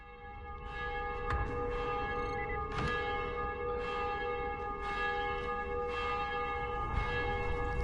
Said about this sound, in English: Why is the bell going off?